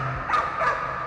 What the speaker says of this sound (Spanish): ¿Por qué está ladrando así?